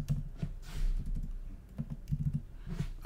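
Typing on a computer keyboard in a music production setup gives a close, quick cluster of soft clacking keystrokes, irregular bursts of several taps with short pauses between, with no voices.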